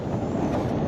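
Steady wind gusting across an outdoor microphone while fishing for bream at Birštonas, a dense low rumble that stays loud and constant with no talk.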